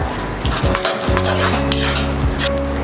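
Pork chilli is stirred in a hot pan, a loud close mix of utensil scraping and clattering against the pan over a continuous frying sizzle.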